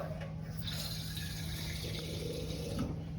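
Tap water runs in a steady, soft stream during a water purity demonstration, with a constant faint hiss and a low hum underneath. No one speaks.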